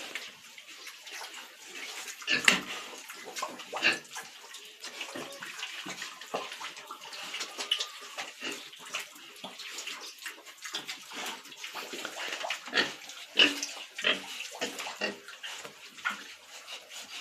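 Wild boars and pigs on a farm, a busy mix of grunts, squeals and snuffling with splashy, wet noises in irregular bursts, fairly faint and close, and no one speaking.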